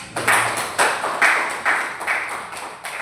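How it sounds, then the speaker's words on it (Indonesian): An audience claps in rhythmic unison, about seven evenly spaced loud bursts at a steady beat over roughly three seconds. "Oke, tepuk tangan dulu"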